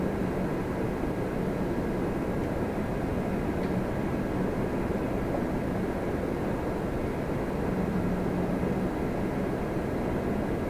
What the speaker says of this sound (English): Porter 304 from Vancouver, Embraer E195 E2